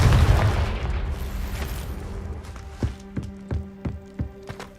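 An explosive Confringo fire spell in Hogwarts Legacy, heard as a loud blast and roar that fades out and gives way to a run of evenly spaced footsteps close by.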